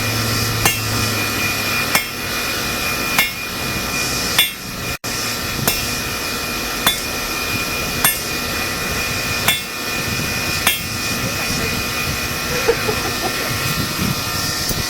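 Hot metal hammered at a blacksmith's forge, sharp evenly spaced hammer blows about once every one to two seconds over a constant loud roar of the forge blower.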